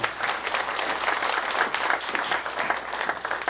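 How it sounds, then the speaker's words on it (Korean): Audience applause of congratulation at a memorial ceremony as a bouquet is presented, continuous many-handed clapping from a crowd in a hall, steady and fairly loud throughout. "축하의 박수 한 번 더 부탁드리겠습니다."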